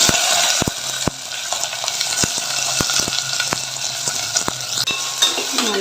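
Mustard seeds, dried red chillies, green chillies and shallots sautéing in a pan, a constant close sizzle broken by sharp spoon-on-pan taps and stirring scrapes at irregular intervals.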